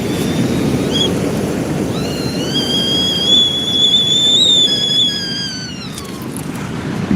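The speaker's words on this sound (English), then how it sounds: "Get ready for our trusty whistle, John B. Kojak" A trusty whistle sounds during a sea fishing trip, several rising and falling whistled tones over a few seconds above steady wind and surf noise outdoors.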